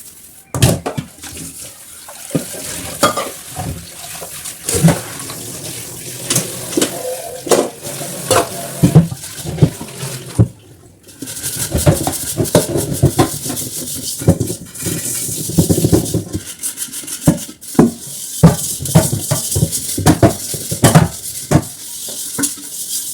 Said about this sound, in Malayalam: കുടുക്കയും പാത്രങ്ങളൊക്കെ സിങ്കിൽ തന്നെ കേട്ടോ കഴുകൽ